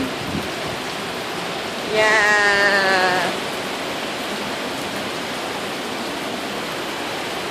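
Heavy rain pours down in a steady, loud hiss throughout, and a voice briefly shouts over it near the start.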